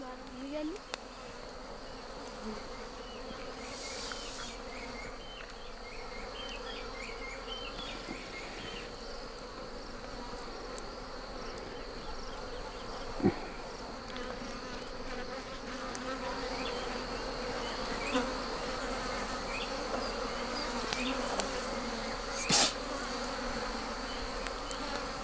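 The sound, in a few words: wild bees buzzing during honey hunt in Kenya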